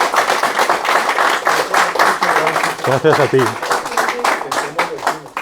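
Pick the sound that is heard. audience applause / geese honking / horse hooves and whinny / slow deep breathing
audience applause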